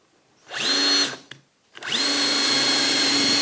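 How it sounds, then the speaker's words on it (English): A Festool C18 cordless drill driver in speed two whirs up in a short burst, stops with a click, then spins up again and runs steadily drilling holes, close and loud. "I'm going to drill two holes"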